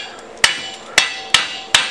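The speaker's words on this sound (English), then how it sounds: "you can take a hammer and just tap that off" Four sharp, loud hammer taps knocking slag off plasma-cut metal, evenly spaced and alone.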